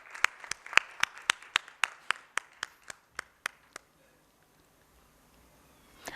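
Sparse, rhythmic clapping from a small conference audience in a hotel hall welcomes a speaker to the stage, about a dozen distinct claps that stop abruptly and leave quiet room tone.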